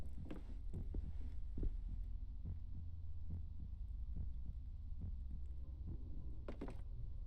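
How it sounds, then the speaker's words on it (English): In the horror video game Song of Horror, a heartbeat thuds in a steady low pulse, faint and muffled, repeating alone over a quiet ambient hum. "I could hear my heartbeat for some reason."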